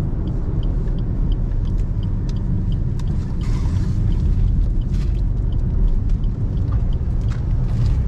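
Interior of a compact car cruising on a highway on 165/70 R14 tyres, a steady loud low rumble of road and engine noise filling the cabin throughout with faint higher wind hiss, no talking.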